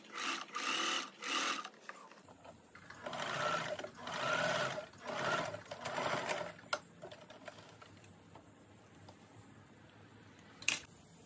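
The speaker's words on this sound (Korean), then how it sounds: "겉감과 안단을 겉과 겉을 마주보게 해서 네크라인 선을 따라서 봉제를 해줍니다" A sewing machine stitches a denim jumper skirt along the neckline, running in several steady whirring bursts with short pauses, close and fairly loud, then fading to quieter handling noise and a sharp click near the end.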